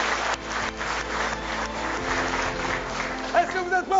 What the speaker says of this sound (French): J'aimerais un tonnerre d'applaudissements s'il vous plaît.